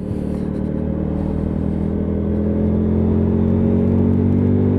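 A Lexmoto LS-Z motorcycle cruising in fifth gear at about 30 mph and 5,000 RPM on a country road, a steady close engine drone and rumble with a slight rise toward the end.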